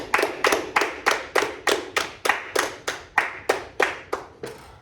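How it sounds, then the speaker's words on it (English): A classroom audience claps in a steady, even rhythm, about a dozen crisp claps close by over five seconds and fading slightly at the end, with no talking. "Let's give you all a round of applause."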